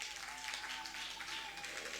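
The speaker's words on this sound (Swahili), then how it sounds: "Tumpigie Bwana Yesu makofi mazuri." Church congregation applauding for Jesus during a service, a steady wash of clapping from many hands with a sustained tone and faint voices mixed in.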